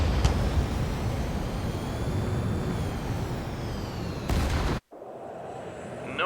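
Fighter jets roar through a continuous loud, broadband rush in an Ace Combat 7 aerial battle, briefly swelling near the end and then cutting sharply to a quieter hum.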